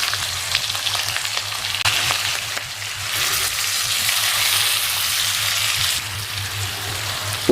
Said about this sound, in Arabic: هننزل بقى باللحمه بتاعتنا بالشكل ده